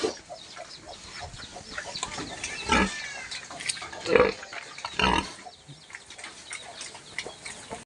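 A pig on a farm gives several loud grunts and squeals, while chickens cluck faintly nearby.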